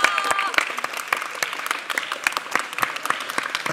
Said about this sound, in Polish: Renata Wypasek, gorące brawa!